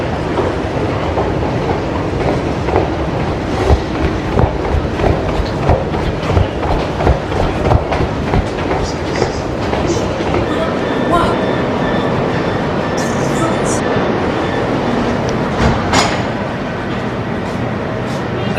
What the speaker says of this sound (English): So this is the National Museum metro station.